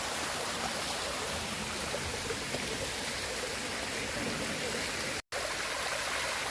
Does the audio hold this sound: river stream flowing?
yes